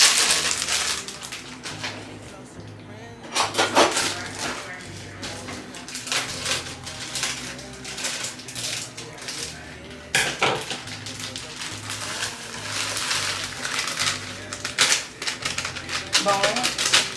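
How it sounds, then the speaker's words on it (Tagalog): Blueberry muffin mix being stirred in a mixing bowl, a steady scraping and tapping of a utensil against the bowl that runs throughout, with a person talking over it. "So, paghaluin lang natin yung mga ingredients. Yung blueberry muffin mix"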